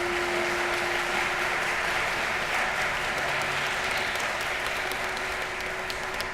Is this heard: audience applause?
yes